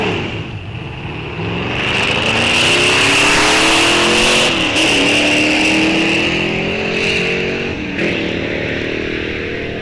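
Drag race cars launching down the strip at Rock Falls Raceway, including a four-speed Chevrolet Malibu, engines revving hard and climbing through gear changes, loud and close, with no talk.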